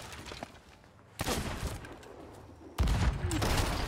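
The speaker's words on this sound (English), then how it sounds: "this guy's trying to fucking cannon at me on the island" Heavy booming cannon blasts from ship battles in a pirate game, several loud reports landing in rough succession, each followed by a crackling rumble, the last one close and strongest.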